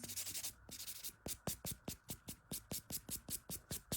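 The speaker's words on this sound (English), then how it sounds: "Okay, I'm just buffing this." A nail buffer is rubbed over acrylic nails in quick, even back-and-forth strokes, about a dozen scratchy passes in a steady rhythm. The sound is close and fairly soft.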